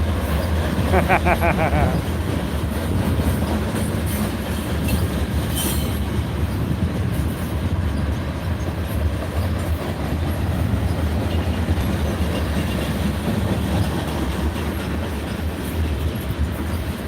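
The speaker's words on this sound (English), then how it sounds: "Oh, here's the end of the train already." A freight train rolls past at Arvada, a continuous rumble of railcars with rhythmic wheel clatter and a brief high squeal early on, moderately loud and steady throughout.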